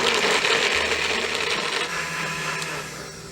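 A blender whirs steadily as it mixes vanilla-infused milk, a loud, continuous motor drone with a grinding texture that stays constant for the whole clip, with no voices.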